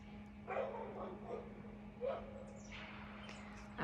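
Dogs barking excitedly outdoors at a porch after spotting another dog running around the yard: a few short, moderately distant barks in bursts over a steady low hum, with some faint background chatter.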